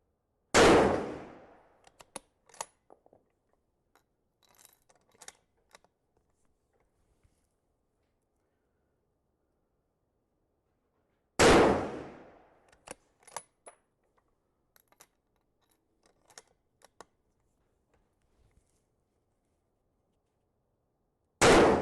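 Benchrest rifle shots with a competition trigger: three loud, sharp reports spaced about ten seconds apart, each followed by faint clicks and mechanical handling sounds in otherwise quiet surroundings.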